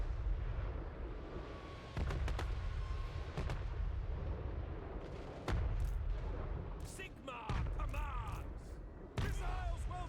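Artillery firing high-explosive shells in Total War: Warhammer 3 sounds as a series of deep booms with rumbling tails over a steady battle din, with a few voices heard faintly in the mix.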